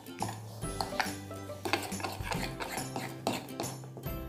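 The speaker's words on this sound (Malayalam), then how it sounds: "അപ്പൊ നമ്മൾ ഇത് നന്നായിട്ടൊന്ന് മിക്സ് ചെയ്യണം." Leftover dosa batter with onion, green chilli and salt being mixed in a bowl: wet spoon scraping and knocks against the vessel in an uneven rhythm, close, with a faint hum underneath.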